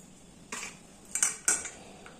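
A utensil clinking against a bowl while mixing salt, turmeric and black cumin into bottle gourd fritter batter, three or four quick metallic scrapes and taps up close.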